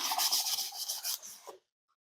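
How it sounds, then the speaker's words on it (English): Sandpaper rubs hard back and forth over a glued edge on a wooden workpiece, giving a close, steady raspy scraping for about a second and a half before stopping. "sand that down."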